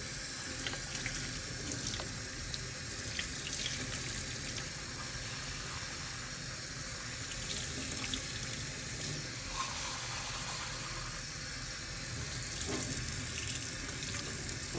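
Dirty water from cleaning found pennies and jewelry runs from a tap into a sink, a continuous hissing flow with small splashes and clinks, steady and fairly quiet throughout.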